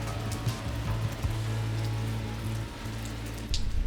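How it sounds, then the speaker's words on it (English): Rain falling steadily on a surface at a campground, a dense patter of drops with a low hum underneath, close and continuous with no talk. "I think we're just gonna set up at the free campground before the rain gets worse."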